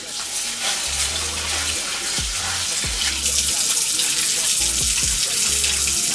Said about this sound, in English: I rinse it about 2 times first.